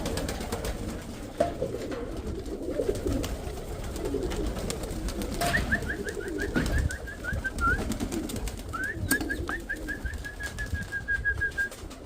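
Pigeons in a loft with eggs and squabs coo steadily at a low pitch, with two short runs of higher repeated chirps partway through and no talk.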